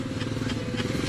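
A motor scooter engine hums steadily nearby as it passes, its low rumble continuous throughout with faint voices in the background, near a provincial beach.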